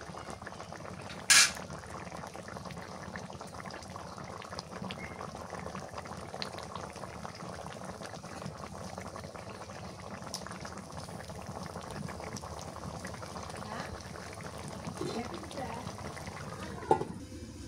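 A pot of boal fish curry with potatoes simmers on the stove, giving a steady soft bubbling hiss with a couple of faint utensil clinks.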